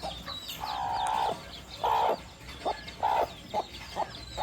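A hen in a Karnataka village clucks nearby in a series of drawn-out calls and shorter clucks, fairly loud against a quiet rural background.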